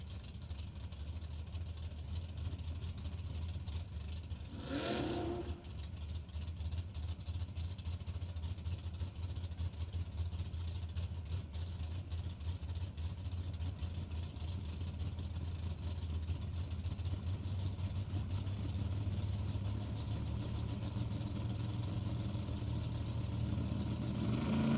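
Drag racing cars, including a Camaro, sit at the starting line of a drag strip, their engines a steady low rumbling drone with one brief sharper burst partway through; no voices.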